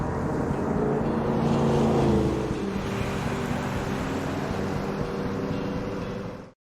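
A car driving in the Blair Witch video game, with a steady low engine rumble and road noise that holds evenly throughout, swelling slightly early on before easing to a constant drone and cutting off at the end.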